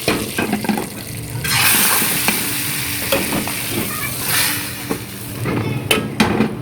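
A loud, steady sizzle and crackle of hot tempering oil hitting a pot of moong dal, with stirring scrapes and a few clinks of utensils.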